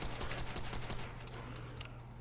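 Rapid burst of gunfire from a Call of Duty Zombies match on the Nacht der Untoten map, a dense run of shots for about a second followed by a few scattered single reports, with a steady low background hum.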